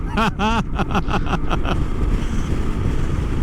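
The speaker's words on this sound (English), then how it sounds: "because it's windy right now. It's really windy and cold" Wind buffets the microphone in a steady low roar while riding a KLR650 motorcycle, with a person's voice briefly heard over it at the start.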